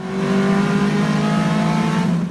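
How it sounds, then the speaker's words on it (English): A race car engine revs hard at the NOLA Motorsports track on the West Bank, a loud sustained whine climbing in pitch, heard alone and close. "This is him behind the wheel of his race car."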